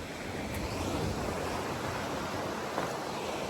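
Atlantic Ocean waves wash onto the shore in a steady, broadband roar of surf mixed with wind buffeting the microphone, close and continuous with no voices.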